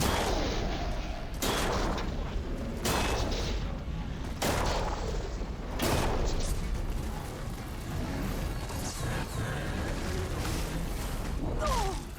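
Ravager cannon fire in Horizon Forbidden West booms in a series of heavy, evenly spaced blasts about every one and a half seconds, loud over continuous game combat noise.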